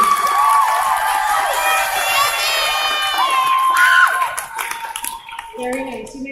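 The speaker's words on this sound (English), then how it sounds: "Let's give them a big round of applause." At a 12th-grade graduation ceremony, the crowd cheers and claps for honor society students, loud whoops and shouts over applause that fades into murmuring after several seconds.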